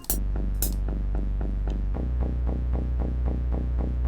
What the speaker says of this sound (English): it's a really deep synth bass line